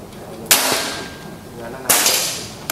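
Two sharp, loud shots from a full-CNC Bocap FX 500 cc Mahameru PCP air rifle crack about a second and a half apart, each with a brief ringing tail.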